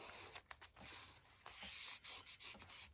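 Glued paper in an altered book junk journal is rubbed down by hand in short, quiet, rhythmic strokes, a soft close-up scuffing with brief pauses between rubs.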